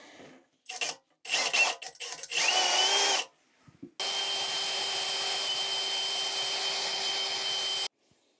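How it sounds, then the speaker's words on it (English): A cordless drill whirs in short bursts, then runs in one long steady whine while boring into a metal trough at an old cabin, loud and close with brief pauses between the opening spurts. "I gotta drill my hole."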